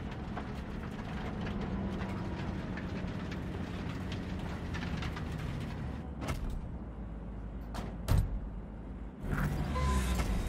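A train rumbles steadily as it arrives in the video game Cyberpunk 2077, a low continuous roar with a couple of brief louder bursts and a rising swell near the end, no talking.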